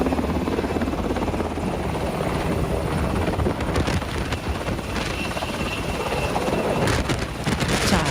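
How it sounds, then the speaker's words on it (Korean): A military helicopter lands at South Korea's National Assembly, its rotor thudding in a loud, steady roar that holds throughout with a faint higher whine, and no talking. "군부대 헬기가 국회에 상륙하는 모습 이게 보이더라고요"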